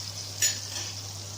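A utensil stirs salted chickpea rice in a pan with one brief scraping sweep over a soft, steady background hum.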